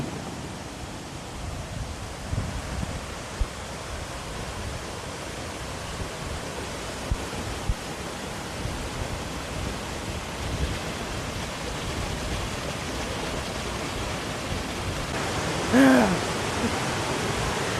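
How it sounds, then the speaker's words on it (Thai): The third tier of Jed Sao Noi waterfall in a Thai national park roars as a dense, constant wash of falling water, loud and unbroken throughout with no talk. "น้ำตกชั้นที่สาม"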